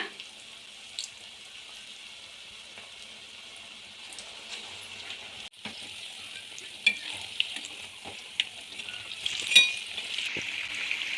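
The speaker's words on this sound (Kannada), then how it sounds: "ಈಗ ನಾವು ಮತ್ತೊಮ್ಮೆ ಈ ಥರ ಬಜ್ಜಿಗಳನ್ನು ಸ್ಟಫ್ ಮಾಡಿರೋ ಬಜ್ಜಿಗಳನ್ನು ಫ್ರೈ ಮಾಡ್ಕೊಳ್ಳೋಣ" Stuffed bajjis deep fry in hot oil with a steady, close sizzle that swells and crackles more sharply in the second half, punctuated by occasional clinks and stirring noises, with no voices.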